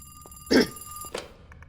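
A telephone rings in a bubble tea shop video game, giving two short electronic bell bursts, the first louder than the second, against a quiet backdrop.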